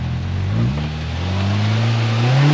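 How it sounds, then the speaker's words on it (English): A Polaris RZR Pro R side-by-side fitted with 37-inch tires revs hard under full throttle, its engine note climbing steadily and loud and close over the whole stretch with no talking. "Just had to smash all the go pedals."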